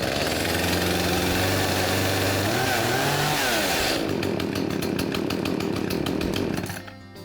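A chainsaw engine catches after a pull of the starter rope and runs loudly and close, a continuous buzzing drone that settles into a rougher, pulsing idle before cutting away at the end.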